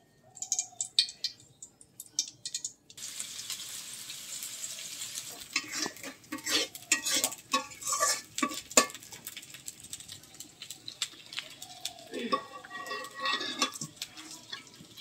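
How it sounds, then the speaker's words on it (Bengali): Sidol, a fermented fish and taro paste, sizzles and fries in hot oil while being stirred in a pan, with quiet crackling at first and then irregular scraping and clinking of the spatula against the metal. "ভর্তার জন্য আমি অল্প শীতল এখানে ভেজে নিব তেলে।"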